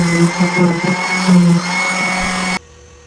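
A power saw rips small maple trim pieces for shelf cleats, giving a loud, steady whine with slight wavering that cuts off abruptly near the end, leaving a quiet hum.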